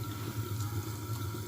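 Water pouring into a cooking pot holding about 1.5 kg of beef for a Mughlai handi aloo gosht, a steady, soft, continuous splashing rush close by.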